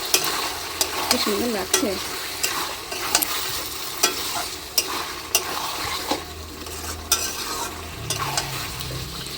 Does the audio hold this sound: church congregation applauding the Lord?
no